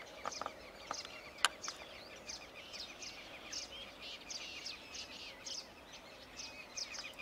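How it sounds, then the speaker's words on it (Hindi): Small birds chirp and tweet in a flowering garden full of potted plants. The calls are light and intermittent, fairly faint and scattered over a soft background, with one sharper chirp standing out. "चिड़ियों की चहचहाट आप सुन सकते हैं,"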